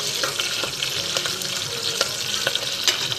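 Green chillies fry in oil for a hotel-style kushka, giving a loud, steady sizzle up close with light scraping clicks of stirring scattered throughout.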